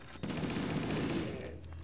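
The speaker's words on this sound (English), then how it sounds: "I'm just gonna use the assault rifle." Assault rifle fire in the Halo CE video game, heard as a rapid continuous burst of automatic shots, fairly quiet and steady, with no talking over it.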